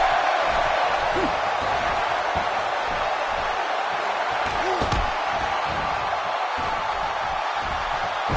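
A pro wrestling finishing-move slam lands with a heavy thud at a packed TNA vs WWE Royal Rumble arena event, inside a constant loud crowd roar, while commentators talk over it.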